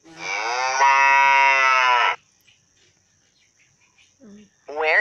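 A single cow moos loudly and close for about two seconds in one long, steady low call, followed by near silence and the start of a second call.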